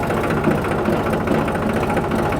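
Close, loud New Holland 3630 turbocharged tractor engine running in second gear while turning, a steady low diesel chug with an even pulsing rhythm and no talking.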